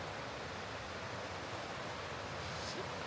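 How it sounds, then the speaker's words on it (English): Steady broadband rush of a waterfall on a trail in Kikuchi Valley, Kumamoto, heard close and continuous at low level with no other sounds. "I think this is the last waterfall in the trail."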